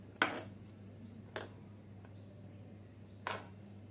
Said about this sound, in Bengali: এখন ছুরি দিয়ে এইভাবে কেটে আবারও একটা ডিজাইন করে দিচ্ছি আমি।